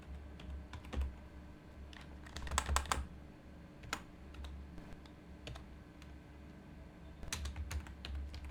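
Quiet typing on a computer keyboard while entering product details into accounting software: irregular clusters of soft, close key clicks with short pauses between bursts.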